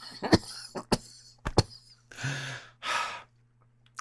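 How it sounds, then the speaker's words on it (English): A few sharp, close coughs in quick succession after smoking cannabis, followed by two longer breathy exhales or gasps. "A little cough sensation."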